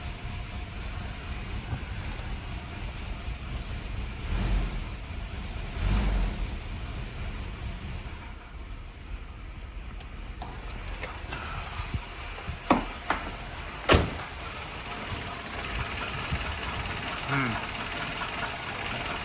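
A Volvo 240 engine idling roughly, a steady close mechanical rumble with an uneven beat and a couple of sharp clicks partway through, with no talk over it.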